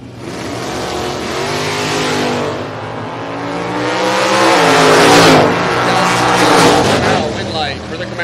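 Drag race between a Camaro and a 1968 Dodge Super Bee with a 383 engine and automatic transmission, loud engines revving and roaring down the strip, swelling and fading over several seconds, with an announcer talking over it.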